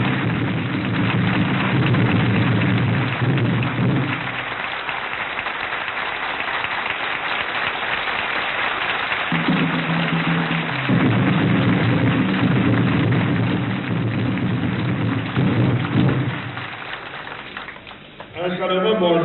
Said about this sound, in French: Applaudissons tous, debout,